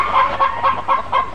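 Cartoon chickens cluck in quick repeated bursts, about six rhythmic squawks close and loud, with no talk over them.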